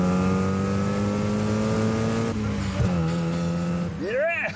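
Convertible sports car (Fiat Barchetta, 1.8-litre, 140 hp) revving hard on the move, a steady loud engine drone that rises and falls, with a brief tire chirp near the end.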